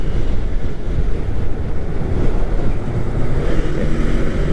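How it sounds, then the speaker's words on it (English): Loud, steady wind buffeting roars over a Kawasaki Ninja 400 motorcycle at speed on a highway, a dense continuous rush with a gusty swell and no voices. "I just got hit with a burst of wind"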